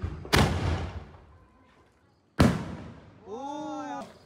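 Two sharp firecracker bangs, then a short rising whistle as a spinning butterfly firework whirls nearby during Diwali.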